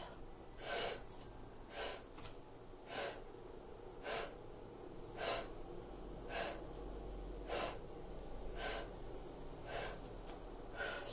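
Sharp, forceful exhales come in an even rhythm during a Pilates abdominal exercise, about ten puffs spaced roughly a second apart. The breaths are close and fairly quiet against a faint room hum.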